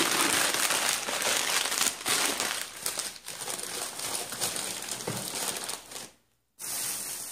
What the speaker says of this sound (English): hopefully the paper crinkling is not too loud